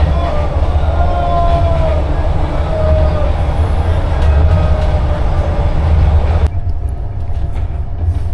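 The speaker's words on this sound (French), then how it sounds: "il y a le train qui monte petit à petit vers la frontière" A train running on rails in Vietnam, a loud steady interior rumble with faint squeals and rattles that drops off sharply near the end.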